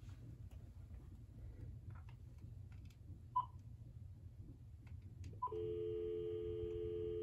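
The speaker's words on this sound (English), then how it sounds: "And here's our dial tone, so it is connected." A MagicJack home phone goes off-hook: after faint background noise and a couple of soft clicks, a steady telephone dial tone starts and holds continuously, quiet and close.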